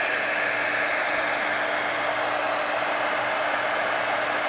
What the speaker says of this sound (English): I'm going to go ahead and heat emboss my image.